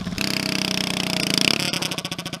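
A go-kart engine with a bent governor runs nearby with a rapid, buzzing pulse, then sputters into a rougher, uneven rhythm near the end.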